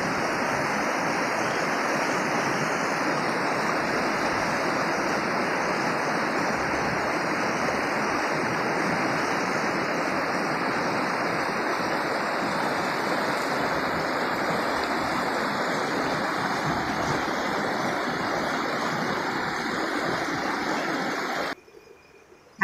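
A river running high and murky after heavy rain gives a loud, steady rush of flowing water throughout, close and continuous, cutting off abruptly near the end.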